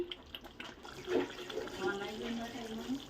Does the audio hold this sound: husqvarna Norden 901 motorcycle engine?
no